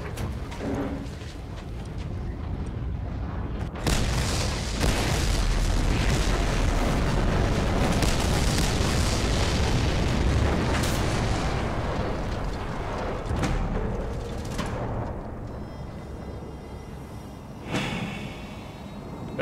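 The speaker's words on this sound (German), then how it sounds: "Bum, die Rohre haben wir gesprengt" Explosions from the Mad Max video game as pipes are blown up: a dense, sustained roar of booming blasts and rumbling debris, loud and continuous, with a sharp burst near the end.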